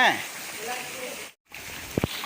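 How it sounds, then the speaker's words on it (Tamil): Heavy rain pours down in Chennai as a steady, dense hiss that cuts out briefly before resuming, with faint voices nearby. "இதுக்கு எப்படி பிச்சு வந்துடுது மழை"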